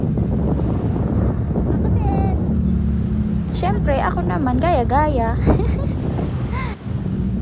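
Strong wind buffets the microphone with a steady low roar while a person talks over it, and a motor hums in the background.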